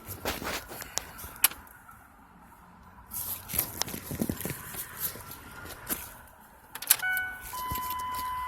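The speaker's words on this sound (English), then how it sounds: "I'm gonna put the key inside." Car key handled and pushed into the ignition of a 2002 Ford Ranger with a no-start fault, several close metallic clicks and jangles scattered over a quiet interior, ending with a faint electronic tone.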